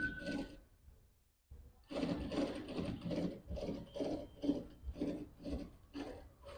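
A sewing machine runs in short rhythmic bursts, stitching a strip onto a neckline, close and fairly quiet, with a brief pause before the steady stitching resumes.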